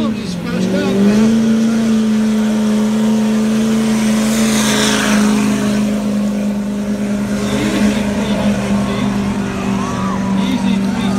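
A 6.7 Powerstroke diesel pickup, nicknamed Thunder stroke, roars at a steady high pitch while dragging the sled at a 2021 Shoshone truck pull, loud and sustained throughout with crowd noise in the background.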